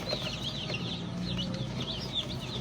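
Chicks at a hatchery cheep in a steady, busy chorus of high, sweeping chirps while being weighed and packed, with dense overlapping calls and low background noise throughout.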